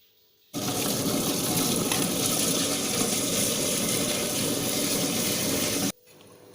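Soaked rice being washed under running water, a steady loud gush of water that pours continuously for about five seconds and then stops abruptly.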